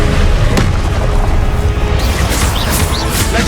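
Spell effects from the Hogwarts Legacy video game, cast as the Expelliarmus disarming charm: loud, dense booming crashes and bursts in quick succession, with bright shimmering swishes layered over a constant heavy roar.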